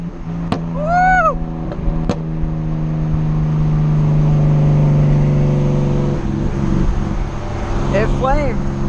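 Loud exhaust from a white street car revving hard, a steady heavy drone rising and holding for several seconds with sharp pops and short engine swells near the start and end, close and dominant.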